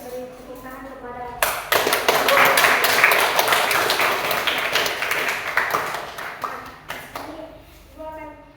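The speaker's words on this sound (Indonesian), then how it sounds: "Baik, beri tepuk tangan kepada" A classroom of students claps in a lively burst of quick, uneven hand claps that fades out after several seconds, with a teacher's voice just before it and again after.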